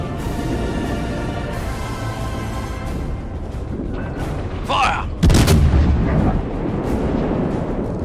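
Ship cannons boom during a naval battle in a video game, with a rumbling barrage under game music and a sharp, loud blast near the middle followed by lingering rumble.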